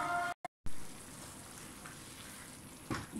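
Vegetables and coriander frying in a pan, a steady soft sizzle throughout, with a brief dropout near the start and a slightly louder burst of crackle near the end.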